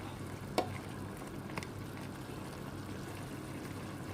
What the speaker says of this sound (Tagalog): Hahaluin lang po natin ng konti